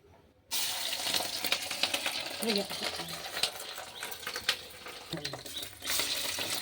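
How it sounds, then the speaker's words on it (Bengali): Pieces of egg-dipped food dropped into hot oil give a steady, loud frying crackle from about half a second onward, continuous with small pops, close by and without any talk. "চুবিয়ে আমি তেলে ছেড়ে দেবো।"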